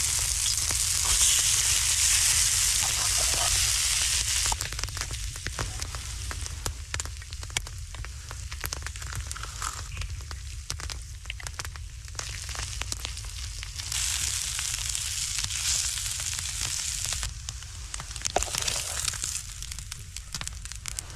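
Frozen corned beef hash sizzles and crackles steadily in a non-stick pan, a loud close frying hiss that eases slightly after a few seconds and carries on with small pops and scraping.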